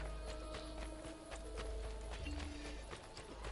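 Horse hooves clip-clop in a quick, steady rhythm in Assassin's Creed 2, moderately close over faint game ambience and tonal music, no talk.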